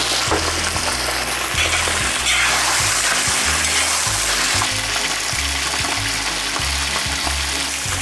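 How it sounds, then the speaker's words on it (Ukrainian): Veal liver frying in about 150 ml of sunflower oil, a loud, steady sizzle and crackle filling the pan with occasional stirring clinks, no talk. "І буквально через пів хвилини закладаю печінку."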